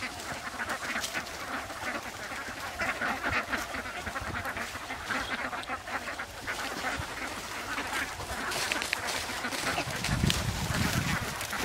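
A large flock of ducks feeding freely in a harvested rice field quack continuously, a dense overlapping chorus of nasal calls, fairly close and steady throughout.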